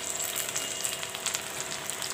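Chopped tomatoes frying in hot oil with golden-brown onions for a chicken dhaniya curry, giving a steady close sizzle with small crackles and soft stirring, no talk over it.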